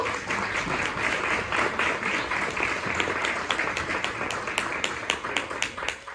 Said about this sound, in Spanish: dale un aplauso a ese rey hermoso